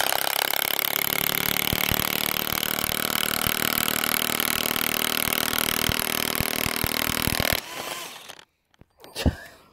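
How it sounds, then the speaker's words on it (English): A DeWalt High Torque impact wrench hammers rapidly and loudly at a bolt for several seconds until the bolt snaps, then stops abruptly, leaving a few brief clunks and handling noises. "For giggles, we're going to try the DeWalt High Torque Impact Wrench."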